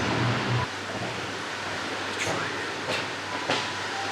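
A train passes on a Cornish railway in pouring rain, heard as a steady broadband wash of rain and rail noise with a low rumbling hum and a few faint squeals and clunks.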